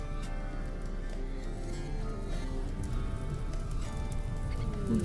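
Rain falls steadily in the video game RimWorld, a dense, even patter that continues unbroken under faint background tones, with no talking.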